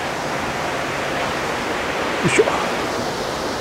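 Steady broadband roar of O-taki falls in Yokoya Gorge, Nagano, constant throughout, with a brief grunt of effort and faint rustle as someone climbs among rocks nearby.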